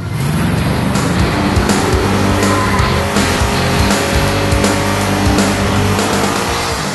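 A car on DOT drag radial tires with two-ply polyester casing and steel belts launches hard, its engine roaring loud and close through a gear change, with a steady, dense drone and some tire noise throughout.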